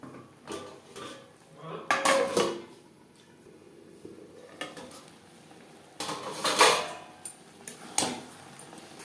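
Pabda fish curry with peas being stirred in a pan over a high-to-medium flame, with clinking metal spoon-on-pan scrapes and knocks in a few bursts separated by quieter gaps.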